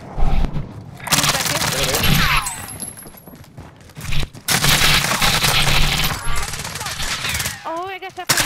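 Rapid bursts of gunfire in a Warzone match, repeated shots coming in clusters across the clip with loud close reports, mixed with game effects and players talking over the action.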